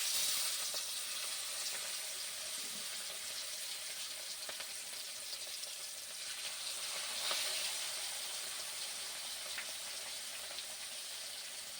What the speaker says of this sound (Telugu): ఇప్పుడు మనం ఒక్కొక్కటిగా తీసుకొని డీప్ ఫ్రై చేసుకుందాం.